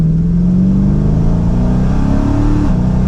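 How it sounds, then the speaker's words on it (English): A Dodge Charger Scat Pack tuned to 1100 horsepower rumbles loudly under throttle, its pitch climbing steadily before easing off near the end, heard from close by. "babying that throttle, you can hear everything in the engine bay."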